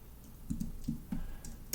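Several light clicks on a computer keyboard as text is typed into a spreadsheet cell, spaced keystrokes with a sharper tap at the end, quiet and close with no talking.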